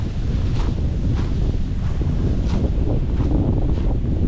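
Strong wind at a beach in Lobo, Batangas, buffeting the microphone with a loud, continuous low roar and gusty rumble throughout, no voices.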